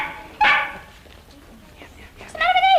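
A dog gives short, vocal, talking-like barks and whines, one yelp near the start and a rising whimpering bark at the end, close by over a quiet room.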